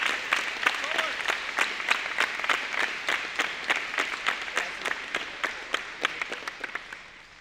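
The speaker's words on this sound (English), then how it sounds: "let's give a round of applause for those students who are heading off to other places" Audience at a Class of 2025 graduation award ceremony claps in a steady, moderately sized round of applause with distinct individual claps, gradually fading toward the end, heard from a little distance in a hall.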